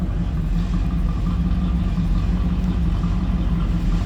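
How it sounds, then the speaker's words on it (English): A 1982 Chevrolet Camaro Z28 Indy Pace Car with a 5-liter high-output V8 runs steadily at idle, its deep exhaust rumble heard close from behind the car with no pauses. "5-liter high output V8. A little rumble coming out of that. Nice deep throaty exhaust note."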